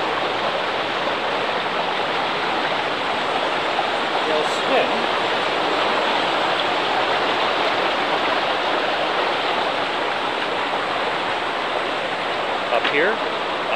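Water rushes over a river dam on Toronto's Humber River at Raymore Park, heard a short distance away as a steady, dense broadband roar with no break from start to end.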